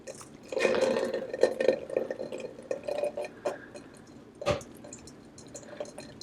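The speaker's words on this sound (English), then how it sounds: "I pour it into my mesh strainer and I just start swirling it" Cheese curds made from raw milk swirled in a mesh strainer, wet squishing and dripping up close, clustered early then thinning into scattered drips with one sharp splat late on.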